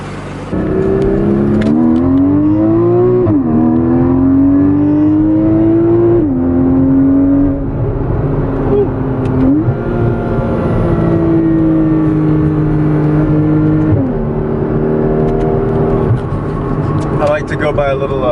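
A Porsche accelerating on a highway, its engine climbing through gears with repeated rising revs and shift drops, heard from inside the car while someone talks over it.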